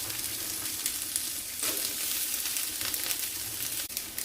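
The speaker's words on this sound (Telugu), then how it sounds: "కొంచెం ఫ్రై చేసుకుంటే అండి కొబ్బరి, ఎల్లుల్లిపాయలు బాగుంటుంది" Coconut, garlic and curry leaves frying in a pan for coconut chutney give a steady, close, loud sizzle with crackling bursts and a faint stir near the end, no voices.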